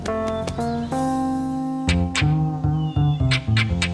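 A cat meows loudly and close, in a string of drawn-out, harmonically rich cries with short breaks between them, some rising into strained caterwauling.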